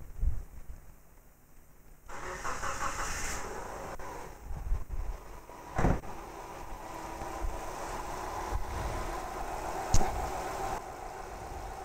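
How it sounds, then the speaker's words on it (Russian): A car engine cranks and catches, then settles into a steady mid-pitched idle recorded up close, with a few louder revs and clunks, some wind noise, and no talking. "сейчас заведем двигатель и посмотрим"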